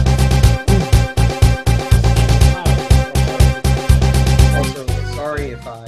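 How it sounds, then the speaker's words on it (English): Banjo, the character from the Banjo-Kazooie video game, makes a loud, rhythmic string of choppy voice-like syllables in quick bursts, with a brief warbling flourish at the end. "This is the noise of Banjo."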